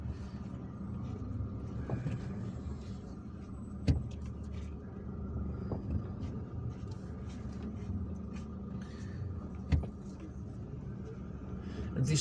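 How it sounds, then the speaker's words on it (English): Car traffic jam on a road in Algiers, a steady low rumble of idling and creeping engines heard from inside a vehicle, with occasional faint knocks and horn-like blips. "This traffic jam is going to ease"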